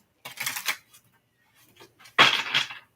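A deck of cards is shuffled during a tarot reading, two quick riffling bursts separated by a brief lull, close and fairly soft.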